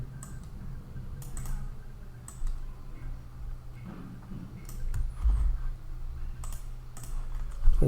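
Keys clicking on a computer keyboard in short bursts of typing, near and fairly quiet, over a low steady hum, with a couple of louder knocks toward the end.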